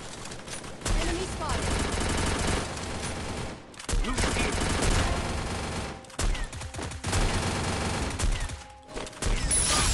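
Sustained automatic gunfire from the Free Fire video game rattles in dense, rapid bursts with short breaks, loud and continuous with game sound effects throughout.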